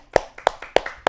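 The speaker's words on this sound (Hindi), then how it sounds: "तो तालियों से हम स्वागत करेंगे विजय कौशिक जी का।" Clapping to welcome a poet at a Hindi kavi sammelan comes through as four sharp, well-spaced claps, loud and close, with quiet gaps between them.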